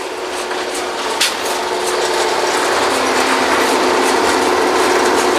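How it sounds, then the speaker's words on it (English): Drawworks winch on an old Kelly drilling rig, a steady loud mechanical rumble and grinding hum with faint ratcheting, continuous throughout with no talk. "Draw works like a giant winch."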